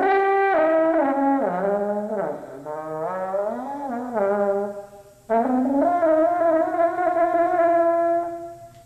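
A homemade trumpet built from heat exchanger tubing and fitted with a smaller mouthpiece plays a run of sustained, bending brassy notes, loud and close, with a brief break midway and no talking.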